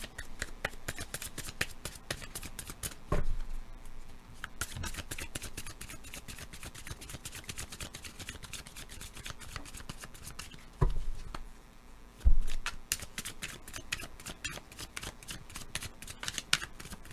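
Tarot cards being shuffled by hand in steady, soft, rapid riffling and flicking close by, with a few louder taps and thumps, and no talk.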